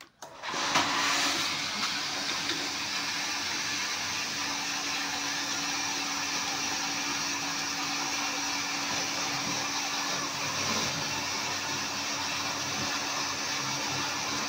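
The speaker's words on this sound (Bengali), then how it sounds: "এবার আমি হাই প্রেসার মোটর চালাচ্ছি। এইটা হাই প্রেসার মোটর, এটা অন হয়ে গেছে।" High-pressure motor of an RO water purification plant switched on, giving a steady, loud whirring hum that holds evenly throughout after a brief start, with no talking.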